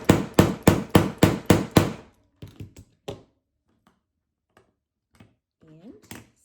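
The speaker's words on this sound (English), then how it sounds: "take a hammer, and you're just going to hit as hard as you can with the hammer." A hammer strikes hard six times in a rapid, even run to set a sewing snap through knit fabric layers, loud and close, followed by a few lighter taps and handling sounds.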